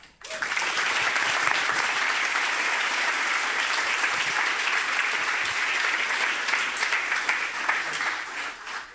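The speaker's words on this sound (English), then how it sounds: "A round of applause for." An audience at a Barcelona JavaScript meetup breaks into loud, sustained applause, a dense, steady wash of many hands clapping for about nine seconds before it starts to thin out.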